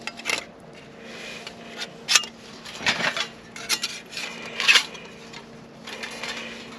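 A small folding camp stove is set up outdoors for a brew, with a string of light metallic clinks, clatters and scrapes, a few sharper clanks standing out, close by with no talking.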